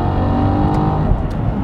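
Maserati Quattroporte engine and exhaust revving hard under full throttle, a loud, steady, continuous roar throughout with no talking.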